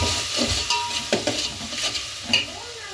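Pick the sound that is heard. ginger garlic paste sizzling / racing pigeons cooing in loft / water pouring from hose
ginger garlic paste sizzling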